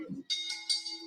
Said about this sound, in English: That was a long bell.